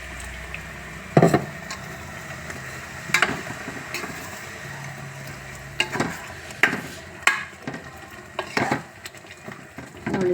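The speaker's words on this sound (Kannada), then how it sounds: "ಈಗ ಇದಕ್ಕೆ ಎಷ್ಟು ಬೇಕೋ ಅಷ್ಟು ನೀರು ಹಾಕ್ಕೊಳ್ಳೋಣ" Scraping stirs and a few sharp clanks of a spoon against a pan as brinjal masala with oil and salt is worked and water goes in, the stirring coming in separate bursts over a soft cooking hiss.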